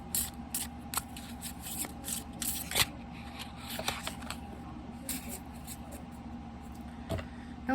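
Soft riffling and tapping of a pocket-size Wild Unknown Archetypes card deck being shuffled by hand, quiet and close, in irregular bursts.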